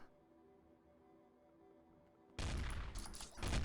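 Gunfire erupts in the boss level of the video game DIRT: Origin of the Species, a loud dense burst of rapid shots that suddenly follows a quiet low hum and runs to the end.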